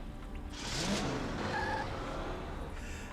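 A bus drives along in the SpongeBob SquarePants: Battle for Bikini Bottom video game, producing a steady engine rumble with a brief swell and passing tonal effects, moderately loud and with no talk.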